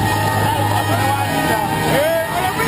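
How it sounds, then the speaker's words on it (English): A crowd cheering for a surfer at a river wave competition, steady loud hubbub with whoops and shouts, heard under a commentator talking. "The crowd giving him a huge cheer."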